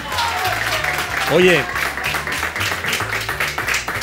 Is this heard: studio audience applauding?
yes